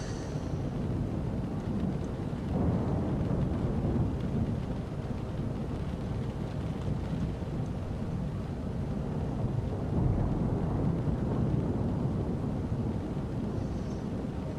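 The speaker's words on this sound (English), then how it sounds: "Rain sounds pretty good, right?" Thunderstorm rain in Microsoft Flight Simulator 2024 hisses continuously, with low rumbling swells like distant thunder rolling through a steady dense wash.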